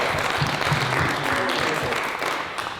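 Audience at a live science and maths gameshow breaks into brief, dense applause with a little crowd noise, fading toward the end of the short burst.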